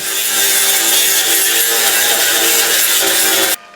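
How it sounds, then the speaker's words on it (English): An angle grinder knocks high spots off the steel body panel of a 1937 Lincoln Zephyr, a loud continuous abrasive whine that cuts off abruptly near the end. "I'm going to take some of this high spots off quick with the grinder"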